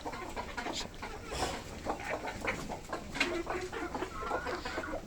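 Dense, overlapping clucks and soft squawks from a flock of native desi chickens on a poultry farm, steady and fairly close, with no talking.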